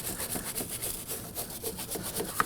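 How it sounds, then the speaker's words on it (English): A wire brush scrubs the hub mounting surface on a Kia Sorento's rear axle, a fast rhythmic back-and-forth rasping of bristles on metal, close and steady with no voices. "use a wire brush to clean the surface where the hub goes into"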